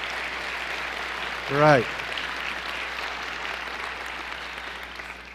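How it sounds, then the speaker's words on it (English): An audience applauding in a hall, a steady wash of clapping with a short spoken word from a voice rising briefly over it. "How about another round of applause and celebration?"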